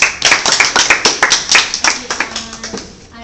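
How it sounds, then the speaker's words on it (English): A small classroom group claps in quick, distinct, uneven bursts close by, thinning out and fading after a couple of seconds. "Give a round of applause."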